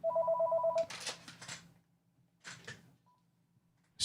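An Office Depot desk phone in use for seven years gives a short electronic ring burst, followed by a couple of faint clicks and handling noises in a quiet room.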